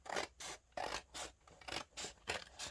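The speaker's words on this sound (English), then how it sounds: "Just gonna cut it in half." Scissors snip through scrapbook paper in a steady run of about eight close, crisp strokes, each a bright rasping slice with brief pauses between, no voices.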